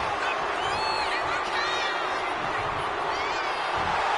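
A wrestling arena crowd cheering in the WWE 2K25 video game as Sol Ruca hypes them up, a constant roar of many voices with whoops and whistles rising above it.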